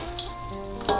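Pineapple dry-frying in a pan with wild boar offal, a steady close sizzle with faint crackles and a brief stir scrape near the end, no talk.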